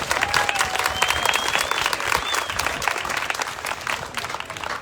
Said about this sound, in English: Let's give a round of applause to everybody who played a role making it happen